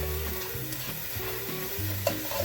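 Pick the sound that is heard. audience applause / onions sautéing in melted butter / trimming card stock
onions sautéing in melted butter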